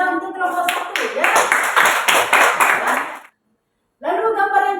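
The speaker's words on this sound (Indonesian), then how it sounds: "tepuk tangan kita untuk kelompok 1" A class claps for a group of students, rhythmic close hand clapping mixed with voices, then a brief silence before speech resumes.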